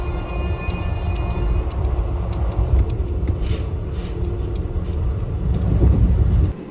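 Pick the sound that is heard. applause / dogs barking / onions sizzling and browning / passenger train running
passenger train running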